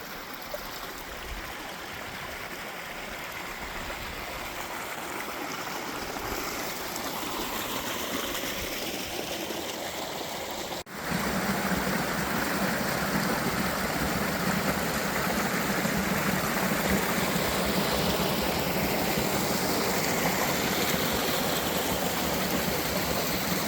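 A creek flows steadily through a forested canyon, a continuous broad rush of water that grows fuller and louder partway through, with no voices.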